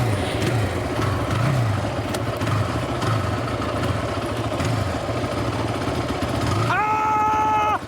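A small kickstart toy motorbike engine runs steadily and close by, with a buzzy mid-pitched drone and a rise in revs near the end as it is put in gear.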